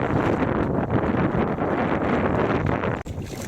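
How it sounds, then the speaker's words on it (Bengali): Strong wind on a river fishing boat buffets the microphone in a loud, continuous roar that barely lets up, with one brief dip near the end and no talking. "প্রচণ্ড হাওয়া নৌকা এগোচ্ছে না পিছিয়ে যাচ্ছে না"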